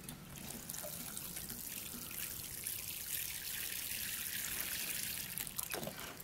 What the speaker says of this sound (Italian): Ora andiamo a mettere un pochettino di acqua.